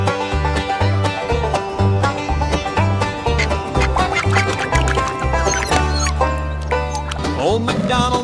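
Cartoon ducks on Old MacDonald's farm quacking repeatedly over a bouncy children's music track with rhythmic bass, loud and busy throughout.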